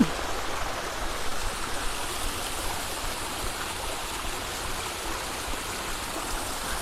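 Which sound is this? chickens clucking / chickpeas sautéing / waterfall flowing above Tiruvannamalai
waterfall flowing above Tiruvannamalai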